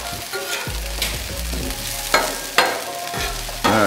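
Eggs and onions sizzling loudly on a flat-top griddle for a steak, egg and cheese bagel, a constant close fry broken by a few sharp scraping clicks of a spatula, with no talk.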